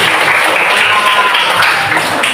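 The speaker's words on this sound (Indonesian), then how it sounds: "Tepuk tangan." A class bursts into steady, dense applause right after a prayer, the clapping hands loud and continuous from start to finish.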